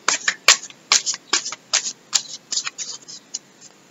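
Tarot cards shuffled by hand, a quick series of about a dozen crisp riffling snaps and flicks in an irregular rhythm, close and clear with no talk.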